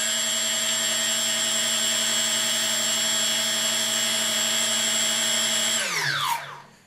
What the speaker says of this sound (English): When I move the throttle stick, it doesn't change anything on the speed of the motors.